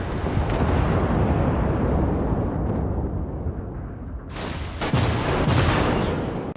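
Heavy naval gunfire from battleship main guns in World of Warships, the USS Arizona trading fire with an enemy ship: a continuous loud, dense rumble of booms and blasts, with a sharp fresh volley breaking in near the end.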